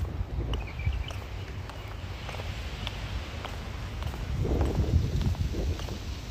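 Wind gusting through a park on the Doha Corniche in Qatar, a steady low rumble of buffeting against the microphone that swells louder toward the end, with faint rustling above it.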